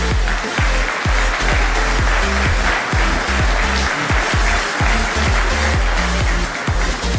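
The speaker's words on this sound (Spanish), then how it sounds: "Un aplauso" Sustained crowd applause for a speaker at an anniversary celebration, steady and dense clapping from many hands with a few sharper claps standing out, continuing loudly throughout with no talk over it.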